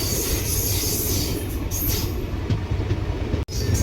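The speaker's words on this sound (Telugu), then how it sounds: "ఇంజన్ అయితే ఆల్రెడీ రైల్వే స్టేషన్లోకి ఎంటర్ అయిపోయింది" The 12604 Chennai SF Express rolls into Nalgonda railway station, heard as a loud, close, continuous rumble of wheels and carriages with a brief sharp dropout near the end.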